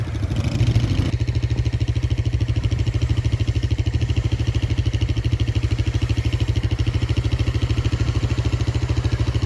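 A Honda ATV fitted with tracks and a 223 Cycles 300EX carburetor runs steadily, its engine putting out a loud, even, rapid low thump that holds the same pace throughout with no voices.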